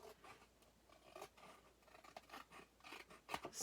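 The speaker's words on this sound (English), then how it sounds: "run this through the paper trimmer and trim off just a" A paper trimmer slices card stock for a folded greeting card, producing soft, close scraping and cutting strokes in a quiet room, with a few sharper rasping passes near the end.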